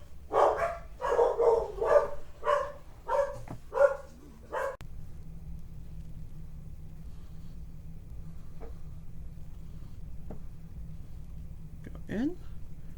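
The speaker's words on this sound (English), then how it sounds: "Sorry if my dogs were disruptive. I don't know what they were barking at" Dogs bark repeatedly close by, a rapid run of loud barks over the first few seconds, followed by quiet room hum with a few faint clicks and a brief yip near the end.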